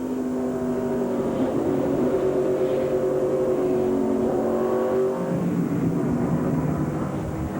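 NASCAR Craftsman trucks race side by side at the Milwaukee Mile during the 1998 DieHard 200, a loud, steady engine roar with droning tones that sweep and shift as the trucks pass close by.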